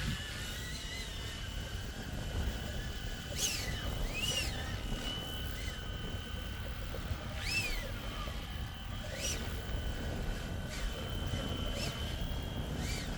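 A small Hill HX50 Flywing RC model helicopter flies at a field, making a steady whining buzz with rising and falling whistle tones as it moves about. It sounds fairly distant under wind noise.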